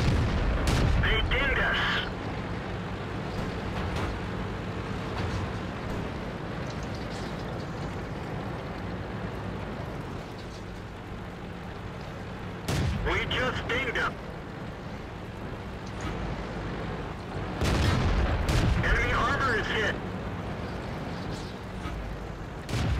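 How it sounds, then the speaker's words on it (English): Tank shells striking the frontal armor of a T14 Tier V heavy tank in World of Tanks, landing as a few loud booming impacts spread across a steady engine-and-battle rumble, with a voice talking throughout. "You can see that two or three shots have banged off the front."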